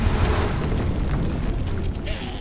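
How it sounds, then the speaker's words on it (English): Battle magic explosions from a suppressing barrage in the Age of Wonders 4 strategy game: a continuous loud rumbling roar of blasts that thins slightly toward the end, with no talk. "I might use some battle magic here."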